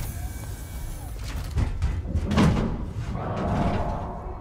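In Alien Isolation, the alien climbs back up into the ventilation ducts, producing a few seconds of heavy metallic clanks, scrapes and rumbling thuds that swell and fade, moderately loud, with no voices over it.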